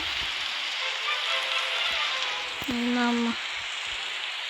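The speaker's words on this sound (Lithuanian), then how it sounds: "Lyja. Jau lyja." Steady rain hisses across the whole scene in the video game Grow a Garden, a constant soft wash of falling drops with a brief tonal chime rising over it near the end.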